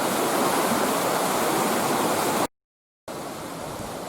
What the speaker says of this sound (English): Now, that's the Ballinderry River.